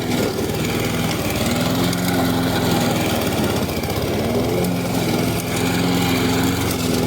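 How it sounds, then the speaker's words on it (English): A Troy-Bilt 11A-542Q711 push lawn mower with a bag cuts thick, high grass, its engine giving a loud, steady drone that runs unbroken from start to finish. "The high grass, push mower's nightmare. Well, it's eating it."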